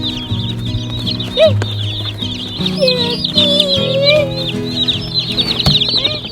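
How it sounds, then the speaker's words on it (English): Baby chicks, Cornish cross and ginger broilers, cheep and chirp in a steady high-pitched chorus close by, with some low tonal background sound running underneath. "So let's get out these chickens"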